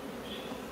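Honeybees drone inside an open hive, a low, steady buzzing hum that is faint and lasts under a second with no other sound.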